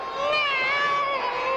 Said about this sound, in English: Oh, shut up, you stupid cat.